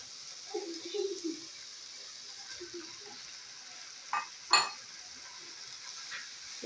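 Ground beef is stirred into well-fried onions in a pan for morocho empanadas. A spoon scrapes and clacks against the pan over a faint sizzle, and a short, sharp clatter comes midway. Brief speech is heard near the start.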